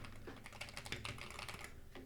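Fast, steady typing on a QK65 mechanical keyboard with a plastic case: a dense run of crisp key clacks lasting about two seconds, close and alone.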